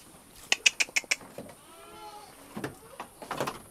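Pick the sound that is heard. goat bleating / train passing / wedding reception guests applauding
goat bleating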